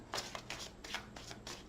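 A tarot card deck is shuffled in a quick series of soft, papery riffles and slaps, about five short bursts in steady rhythm, faint and close, with no talking.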